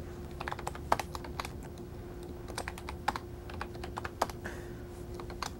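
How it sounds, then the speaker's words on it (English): Someone types on a computer keyboard in quick, irregular clusters of crisp key clicks, fairly faint and close, over a low steady hum. "so I can go ahead and type in things."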